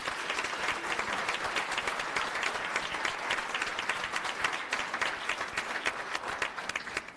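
Sustained applause from a school board meeting audience, dense and even, clapping continuously throughout at moderate volume.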